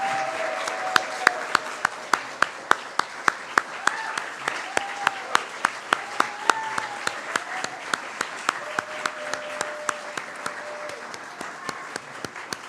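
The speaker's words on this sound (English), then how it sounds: "Let's give them all a big round of applause." Applause for graduates at a university honors college graduation ceremony: a large crowd claps steadily and evenly for about thirteen seconds, with a few sharp, louder claps close by standing out from the rest.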